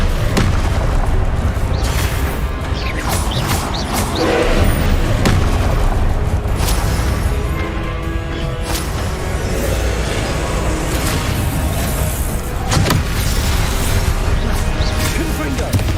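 Confringo spell blasts exploding during combat in Hogwarts Legacy, repeated loud booms and crashes throughout a dense battle mix, with a voice shouting spell names over them.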